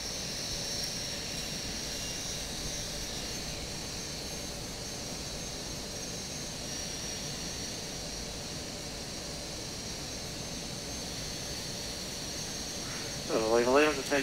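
Steady jet engine drone inside a QualityWings airliner in a flight simulator, a constant broadband roar holding throughout with a brief tonal sweep near the end, under cockpit voices.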